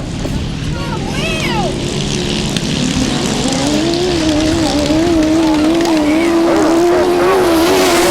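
An Aprilia grasstrack sidecar racing engine revs hard, its loud whine climbing in pitch and then holding steady near the listener, with a commentator talking over it throughout.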